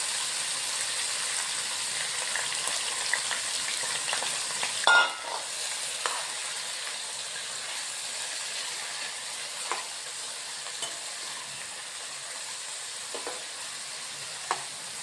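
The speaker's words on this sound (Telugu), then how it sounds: "ఇది వేగేటప్పటికి కాకరకాయ వేసుకుంటున్నాం" Bitter gourd with onions and green chillies frying in a pan, a steady close sizzle with occasional stirring scrapes and clatters throughout, no voices.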